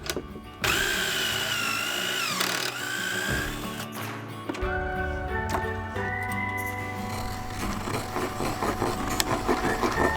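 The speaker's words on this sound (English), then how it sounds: "Let's get some pocket holes." Power drill boring pocket holes into cabinet wood during a camper van pantry build, a loud whirring motor run that ramps up and down in several bursts with sustained buzzing, no talk.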